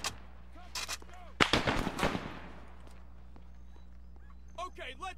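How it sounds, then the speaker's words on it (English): Gunfire in Chernarus combat: a sharp burst of rapid shots rings out, followed by scattered echoing cracks, with voices shouting before and after. "Machine gun! 100 meters front!"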